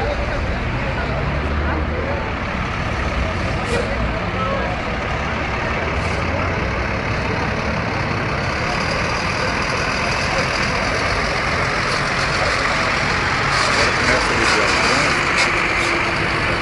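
A semi-trailer truck backs up after a crash with a car, its heavy engine droning steadily under a busy street scene with traffic noise, air hiss and people talking nearby.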